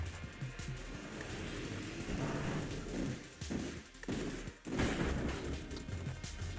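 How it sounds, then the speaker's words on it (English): A dartling gunner in a video game rattles off rapid burst fire, a dense, continuous spray of shots with dips and brief pauses, moderately loud and with no talking over it. "And yes, we get burst fire."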